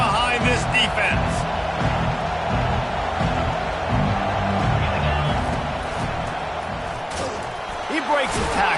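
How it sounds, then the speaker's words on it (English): A football stadium crowd roars for the defense on a big third down in a Georgia vs Ole Miss game. The dense, steady noise runs throughout, with thuds and shouts mixed in under a play-by-play voice speaking over it. "Big third down as the crowd gets behind this defense."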